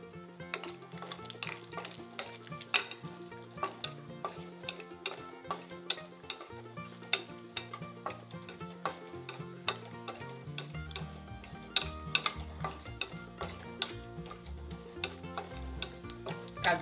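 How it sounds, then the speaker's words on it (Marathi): Almond and cashew slivers fry in hot ghee in a kadhai, giving a steady close sizzle with frequent sharp ticks of a spoon stirring against the pan, continuous throughout with no talk. "त्यात आता मी हे बदाम काजूचे काप परतवून घेते."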